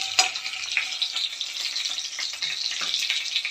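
Tempering for a dish fries in hot oil in a pan with fresh curry leaves, a close, lively crackling sizzle with sharp pops throughout.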